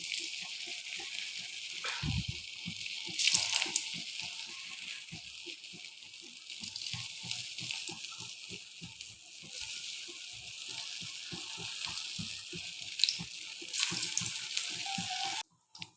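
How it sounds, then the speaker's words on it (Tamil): Tofu pieces deep frying in hot oil, a steady bubbling hiss with dense crackling and popping that carries on through the clip without any voices. "எண்ணெய் இப்போ காஞ்சி வச்சு நம்ம கொஞ்சம் கொஞ்சமாக எடுத்து போட்டுடலாம்."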